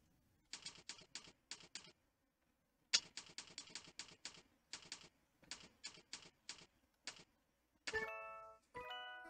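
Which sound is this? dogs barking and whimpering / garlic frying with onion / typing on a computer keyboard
typing on a computer keyboard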